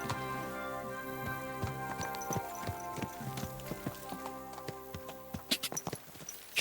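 Horse hooves clip-clop steadily in the medieval game Kingdom Come: Deliverance II, the footfalls growing quicker and sharper toward the end over quiet game ambience, with no speech.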